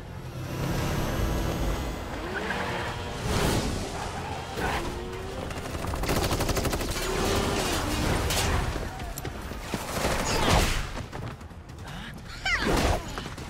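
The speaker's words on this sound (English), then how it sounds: "Oh, they brought out the guns now." Dense gunfire from Tekken 8 crackles through a busy game mix, with bursts and sharp impacts scattered across the clip over a steady rumble of background sound effects.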